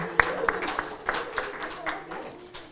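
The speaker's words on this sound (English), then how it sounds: "Can we have a round of applause for our newest citizens and our best dancer?" Applause for new citizens at an evening citizenship ceremony, with scattered claps from a modest crowd that fade over a few seconds, with voices faintly underneath.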